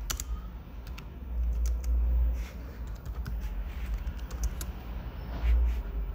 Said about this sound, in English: Click on the prompt area and then type the prompt that you want to use.